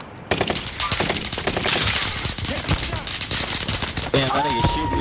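Rapid automatic gunfire from Call of Duty: Modern Warfare, loud and dense bursts filling the clip with a sharp louder burst near the end, with game sounds mixed in.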